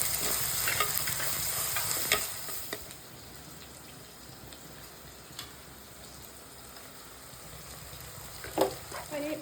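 Small shallots and a piece of onion sauté in a pan for a Kerala fish curry, with a steady close frying hiss and occasional scraping stirs of a spoon throughout.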